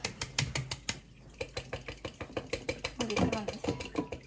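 A sifter holding flour, baking soda and powdered sugar is tapped repeatedly in a home kitchen, giving a steady train of light rhythmic knocks with a voice and adult speech talking over parts of it.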